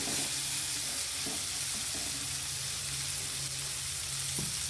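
Diced potato sizzles and fries in a pan while being stirred, giving a dense, constant crackle with a few soft scrapes of the spoon against the pan throughout.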